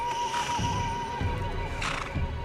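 A horse whinnies in a long, wavering cry over a steady low rumble, with a second rising whinny near the end.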